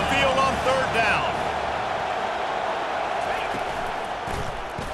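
A home stadium crowd roars at a steady high pitch during a third-down defensive stand in EA Sports College Football 25, a broad sustained wash of noise under a commentator's voice.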